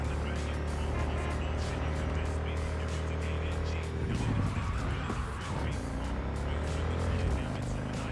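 A car driven fast in the video game Cyberpunk 2077, with a loud steady engine roar and whine that dips and rises through a turn, tire skids and squeal mixed in, alongside game music.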